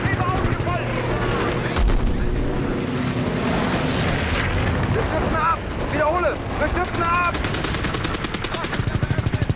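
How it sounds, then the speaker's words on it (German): Heavy gunfire strikes a plane in Call of Duty: WW2, loud continuous rattling bursts and booming impacts over an engine drone, with rapid repeated shots near the end while someone talks. "Jetzt werden wir beschossen."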